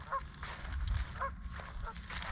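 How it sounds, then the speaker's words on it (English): Geese honk a few times at a distance, brief scattered calls over a low outdoor rumble. "Here's the geese. They're back."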